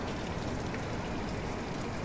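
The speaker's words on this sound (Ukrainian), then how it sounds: "Оце в нас дощ пустився." Steady rain pours down in a dense, even hiss, constant and fairly close, with no voices.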